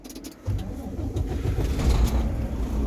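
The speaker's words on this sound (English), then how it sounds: "Now we're going to engine start." A truck engine cranks and catches during air brake practice for a class 3A licence, then settles into a steady low idle rumble close by.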